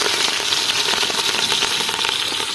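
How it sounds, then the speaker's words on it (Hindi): Green chilies and onion frying in hot ghee give a steady, dense sizzle and crackle that holds at an even level from start to finish, close by, with no voices over it. "अभी जी घी हमारा गर्म हो चुका है। इसमें जो है हम हरी मिर्च और प्याज ऐड कर दिया है।"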